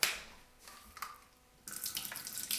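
Water runs from a tap into a sink to douse an item while a refrigerator is being unboxed, starting as a faint trickle, then becoming a louder, steady splashing stream partway through.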